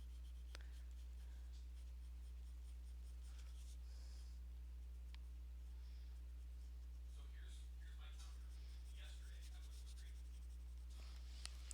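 Soft, scratchy pencil strokes on paper come in short, quick flicks as hair is sketched, faint and close, over a low steady electrical hum.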